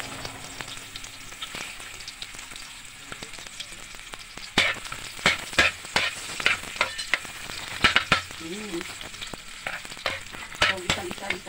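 Garlic and onion fry in cooking oil for lechon paksiw, a steady close sizzle broken by sharp spatula scrapes and clicks that grow louder and more frequent in the second half, with no talking.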